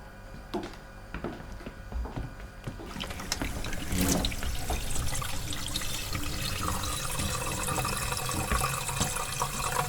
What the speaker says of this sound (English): That's water going into the kettle.